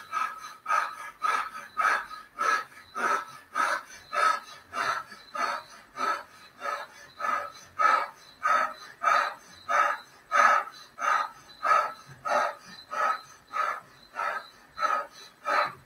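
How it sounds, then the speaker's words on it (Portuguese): Forceful breathing through the mouth as part of a breathing exercise, about sixteen steady, evenly spaced breaths in a regular rhythm, close and clear, with no talking. "vocês vão fazer essa respiração com a boca e eu vou controlar o tempo"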